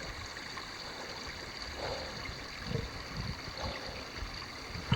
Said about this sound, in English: You can hear the water coming out right there.